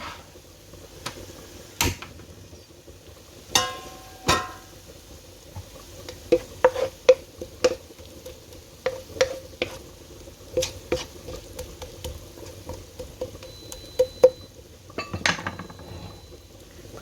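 Ginger sautéing in oil, with faint sizzling beneath sharp, scattered clinks and scrapes of a utensil stirring against the pan at irregular intervals.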